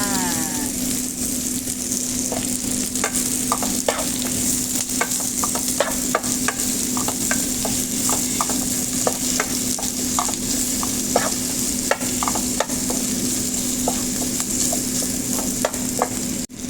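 Chopped ginger sizzles steadily in hot oil in a pan for a Filipino chicken with tomato and lettuce dish, broken by repeated scraping clicks as it is stirred; no talking.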